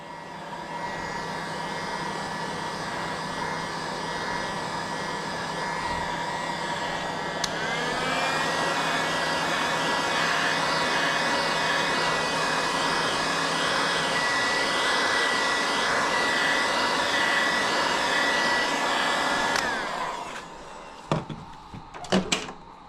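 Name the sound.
heat gun warming soft plastic lure tails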